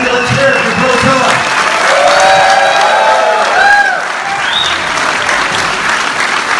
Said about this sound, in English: Let's hear it for Brodezilla.